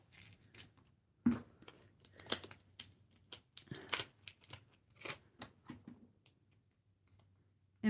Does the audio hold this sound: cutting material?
yes